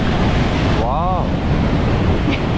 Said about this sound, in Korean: The waves are smaller.